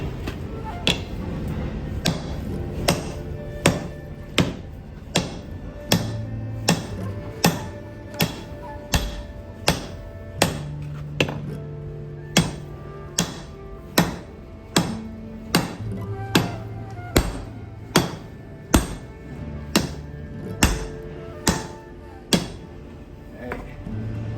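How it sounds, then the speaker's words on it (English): Steady hammering with a sledge to bevel a katana blade at the forge, loud metallic strikes repeating about once a second in an even slow rhythm, with a background hum and occasional ringing tones. "Slow tapping. Well, actually, I can bevel it with the sledge."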